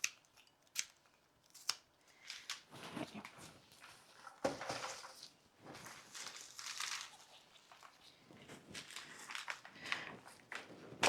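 Clippers snip through rose stems in a series of sharp, close cuts, several crisp snaps spread out with handling rustles and quiet gaps between them.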